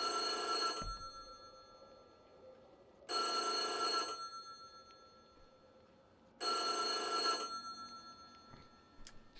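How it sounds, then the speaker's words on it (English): A telephone bell rings in three loud, evenly spaced bursts of roughly a second each, separated by quiet gaps, with no talking over it. "Shut up, phone."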